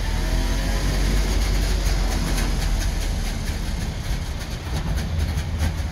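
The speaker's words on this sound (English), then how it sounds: "You can hear that two-stroke roar to life." A two-stroke DKW 3=6 Auto Union car engine runs steadily and loudly with a low, raspy drone, sounding close, while the car rolls along with a faint rattle.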